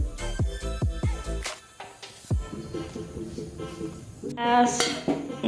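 Metal utensils clank and scrape against a wok in quick, loud strikes, followed by a steady bubbling sizzle as a salted mixture boils.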